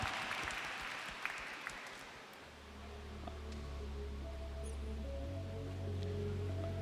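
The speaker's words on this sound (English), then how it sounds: "please thank Microsoft presentation with a round of applause" Applause from an audience, a dense patter of clapping that fades after a couple of seconds into a steady low hum with faint tones.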